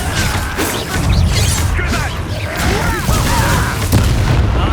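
Confringo blasting spell explosions in the game Hogwarts Legacy, booming and crashing one after another in a dense, loud battle din with whooshes and impacts and no pause.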